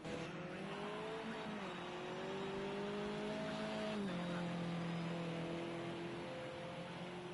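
A race car at Circuit de Catalunya lapping steadily, its engine drone holding a near-constant pitch with a brief dip as it shifts, heard from onboard at moderate distance.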